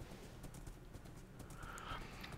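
Horse hooves clip-clop in Minecraft with the Mekanism modpack, a fast steady run of light game-sound steps close up and alone, with no talk over them.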